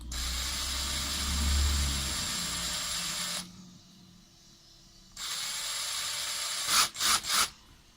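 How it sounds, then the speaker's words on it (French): A loud, steady mechanical grinding and whirring of an electric drill drilling out rivets on a Matchbox Lamborghini Miura model, cutting off abruptly, pausing, then resuming, ending in a few sharp bursts as the drill bites through. "On se munit de la perceuse. Voilà, on va la dérifter en direct."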